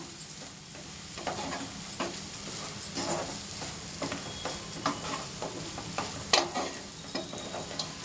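Grated carrot and chana dal frying in a pan, a soft continuous sizzle with intermittent spatula taps and scrapes at an irregular stirring pace, close-up with no talking.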